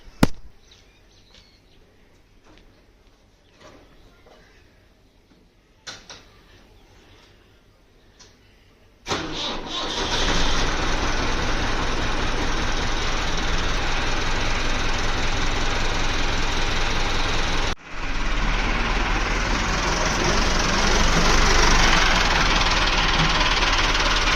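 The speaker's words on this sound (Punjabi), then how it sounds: "ਟਰੈਕਟਰ ਕੱਢਣ ਲੱਗਾ ਬਾਹਰ" A few quiet knocks, then a 385 tractor engine cranks and roars into a loud, steady idle, cutting out briefly before restarting and running on.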